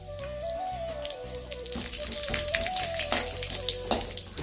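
Cashews and almonds sizzle and crackle in hot cow ghee, with bursts of frying spatter building after a tonal hum of background sound, fairly close and steady.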